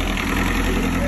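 Diesel engine of a narrowboat under conversion running steadily, a continuous low throbbing idle with a constant mechanical hum, close and loud.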